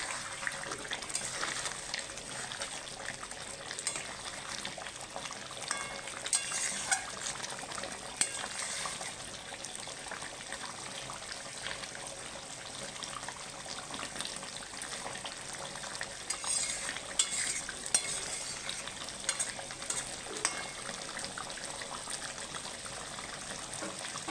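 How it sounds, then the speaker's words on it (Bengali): Chicken with onion and yogurt sizzling in a pan over a gas flame in a village-style kitchen, a continuous moderate frying hiss with occasional scraping and stirring clinks and no talking. "আমি আরেকবার নেড়ে দেবো এবার, গ্যাসটাকে বাড়িয়ে"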